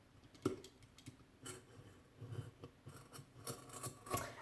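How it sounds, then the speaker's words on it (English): Scissors snip through tape on a 30oz fabric-wrapped stainless steel tumbler, several short crisp cuts spaced irregularly, close and quiet with faint clicks between them. "Peel off the tape, use the scissors, go back and cut."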